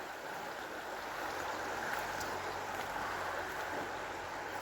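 A river fed by thermal springs flowing at a park in Lobios, heard as a steady, soft broadband rush of water at moderate distance, even and continuous without voices.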